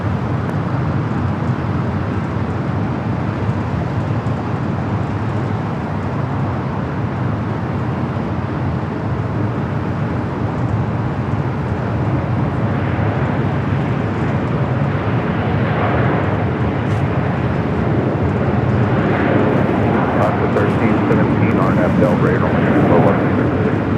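A Volaris airliner takes off from the north side of LAX, its engines a steady, sustained roar under continuous talk, swelling slightly toward the end.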